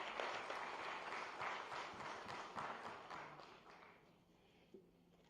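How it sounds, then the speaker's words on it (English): An audience at a town planners' conference in Ahmedabad gives a dense round of applause welcoming the keynote speaker, the IBM India managing director. The clapping is steady at first, then thins and fades out over several seconds. No one speaks. "Please welcome sir with a round of applause"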